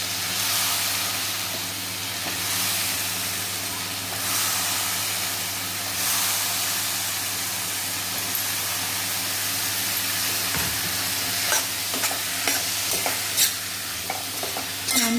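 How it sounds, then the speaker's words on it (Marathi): Ridge gourd stir-fried in a pan with soaked mung dal, giving a steady close sizzle and hiss of frying all the way through, with light scraping and stirring knocks toward the end. "इथे शिरोळे टाकून घ्यायचे आहे."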